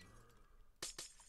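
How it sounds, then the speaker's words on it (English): Two quick sharp breaking clicks as glowstone blocks are punched out in Minecraft, faint and close over a quiet background. "Let's punch these glowstones out."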